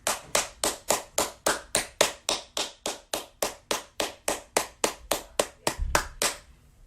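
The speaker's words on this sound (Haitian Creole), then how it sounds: "Bat bravo pour la jeunesse." Applause heard as a steady, evenly paced series of about twenty sharp hand claps, close and distinct, keeping a regular rhythm throughout with no voices.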